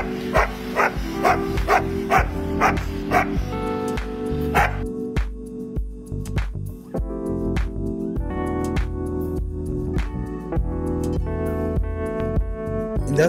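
A Kombai dog barks in a rapid series of loud, close yips, with music-like tonal sound running underneath throughout.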